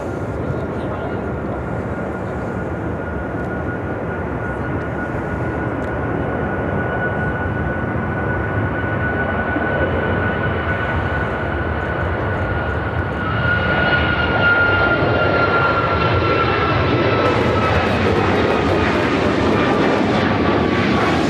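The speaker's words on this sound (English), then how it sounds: "This is United Airlines 1258 taking off to Newark on the MAX 9." United Airlines Boeing 737 MAX 9 jet taking off at Chicago O'Hare, bound for Newark: a steady, loud engine roar that builds and brightens partway through with a rising whine, with a voice talking over it.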